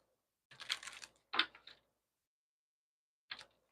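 Tarot cards shuffled nearby: quick papery riffling in two close bursts, then a brief third flick after a pause.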